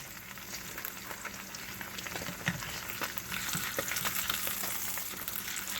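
An omelet fries in a pan with a steady, soft sizzle and occasional small pops, close by and quiet, continuing without pause and with no talking.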